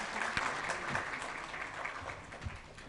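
Conference panelists at a women's empowerment event receive a brief burst of audience clapping, dense and moderately loud, tapering slightly over three seconds in a large room.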